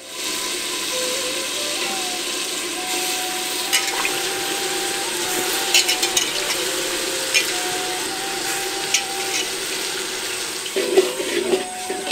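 Water pours steadily into a cooking pot over soaked rice and lentils for village-style sambar rice on a wood-fired stove, a continuous splashing flow with small clinks, close by and alone.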